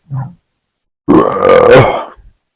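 A long, loud, close burp from a man, deep and gurgling, rolling for about a second after a short grunt-like sound.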